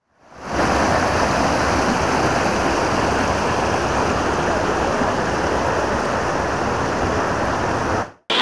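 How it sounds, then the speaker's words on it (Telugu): A waterfall at Jambu Rayuni Betta near Bagepalli, between two hills, roars steadily and loudly up close, a dense unbroken rush of falling water that cuts off abruptly near the end, with no talking. "ఇంతకు ఈ జలపాతం ఎక్కడుందో మీకు చెప్పనే లేదు."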